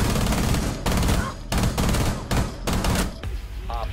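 Rapid bursts of automatic gunfire in Rainbow Six Siege, loud and close, coming in four or five dense volleys separated by brief gaps, with a faint voice at the very end.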